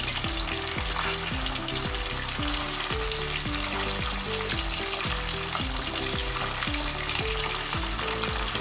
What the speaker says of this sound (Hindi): एक साइड से फ्राई हो चुकी है, दूसरी साइड से भी कर लेंगे